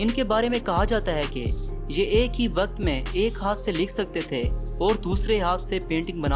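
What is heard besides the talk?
No everyday noise stands out behind the speech.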